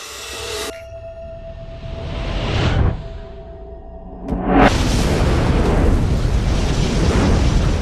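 A box of dynamite exploding in a film scene after a lit flare is dropped in, a rising whoosh followed by a loud booming blast that rolls into a long sustained roar of fire and debris.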